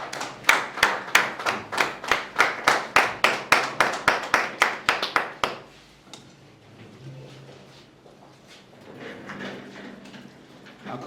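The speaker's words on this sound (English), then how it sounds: "Can we please give him a round of applause?" A small press room applauds the newly appointed Mamelodi Sundowns head coach, Miguel Cardoso: about twenty crisp, evenly spaced claps ring out close and loud for roughly five seconds, then stop and leave quiet room tone with faint shuffling.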